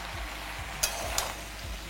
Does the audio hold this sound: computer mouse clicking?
no